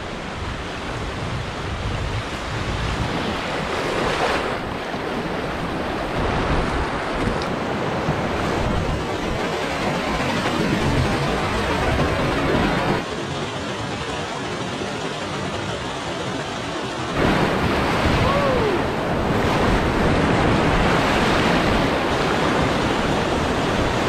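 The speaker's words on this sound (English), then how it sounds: "Waves way down there too." Waves roll and break on water in remote wilderness, a continuous broad surf roar mixed with wind buffeting the microphone, steady and loud, with the wash surging and easing every few seconds.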